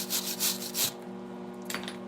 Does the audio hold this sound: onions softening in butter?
no